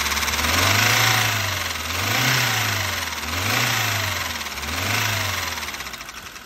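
An older BMW youngtimer diesel engine runs nearby with a clear tappet knock, a steady metallic ticking over the idle as the revs swell and fall in several slow, repeated blips; no one speaks.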